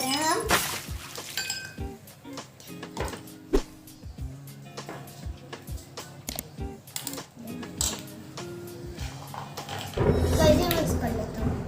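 Mint mojito being mixed in a glass, with repeated light clinks and taps of a spoon against glass in an irregular rhythm, then a louder rustling pour near the end, while an adult and someone talk.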